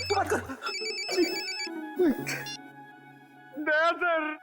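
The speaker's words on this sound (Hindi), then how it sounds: "तेरा फोन बज रहा है।" A mobile phone rings in a tense CID crime drama scene, its electronic ringtone sounding in short repeated bursts while people talk over and between the rings.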